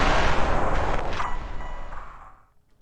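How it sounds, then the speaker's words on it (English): A loud, booming explosion bursts at the start and rolls off into a fading, echoing tail over a couple of seconds. "To create the sensation or the feeling of this energy ball finally hitting and exploding."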